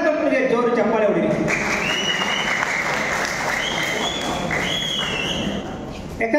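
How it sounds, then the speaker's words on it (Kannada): Audience applause at a public event: a dense, steady wash of many hands clapping close by, holding at an even level for several seconds with voices carrying over it. "ನಮ್ಮ ಊರುಗೋಲು ನಾಗರತ್ನಪ್ಪನಿಗೆ ಜೋರು ಚಪ್ಪಾಳೆ ಹೊಡಿ."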